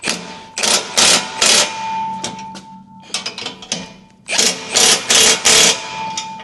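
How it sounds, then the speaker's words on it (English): A pneumatic impact gun fitted with a chrome socket drives bolts while a winch bumper is fitted to a Land Rover Defender 90, giving repeated loud, close bursts of rapid hammering rattle separated by short pauses. "I know you shouldn't be using a chrome socket on an impact gun"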